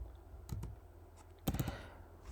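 Keys clacking on a computer keyboard as a command is entered, in two short bursts of a few close, crisp keystrokes each over a quiet room background.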